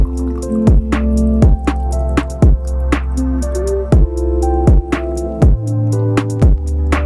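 Guava chilli mocktail poured from a shaker into glasses in a steady series of sharp, ringing drops and splashes, close and clear, with no talking.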